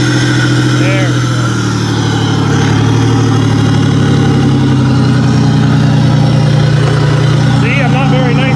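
A Buick engine idles steadily right after a jump start from a booster pack, a loud continuous low rumble running through the whole stretch while people talk over it.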